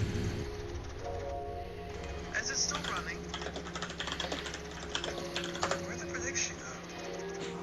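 Quick, irregular clicking of typing on a computer keyboard runs steadily throughout at moderate volume, set against a busy, dense background mix from a game.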